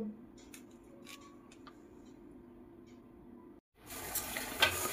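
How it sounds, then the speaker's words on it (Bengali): A knife cuts raw papaya in a series of faint, crisp slicing clicks. A louder, rougher burst of scraping and rustling follows near the end. "ছুরি দিয়ে পেঁপে কাটছি"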